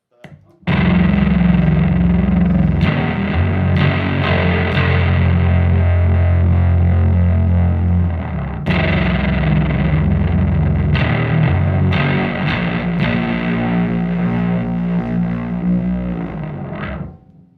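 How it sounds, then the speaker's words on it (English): A heavily distorted electric guitar in F standard tuning plays sustained, thick chords and low riffs, loud and close, with brief breaks between phrases. "distortion, makes it sound bigger"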